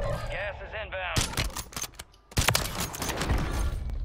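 Gunshots ring out in a battle royale video game, a few sharp cracks followed by a dense volley of loud shots, with voices talking over the first moments.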